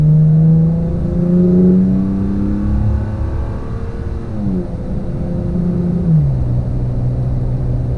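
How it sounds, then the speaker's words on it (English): A Toyota Tacoma fitted with an MBRP exhaust accelerates on the road, its engine drone rising in pitch, dropping at a gear change and climbing again, loud and close throughout. "So you guys can kind of hear what it sounds like"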